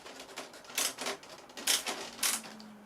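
A screw being driven into a part on an Avios Bush Mule model aircraft, a run of close, sharp clicking and ratcheting bursts separated by short pauses.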